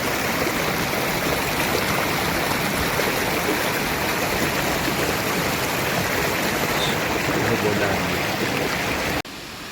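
A forest waterfall at Heraiz near Nurabad Mamasani in Fars roars as it pours into a stream, a dense, constant, close rush of water that holds steady throughout before dipping slightly at the very end.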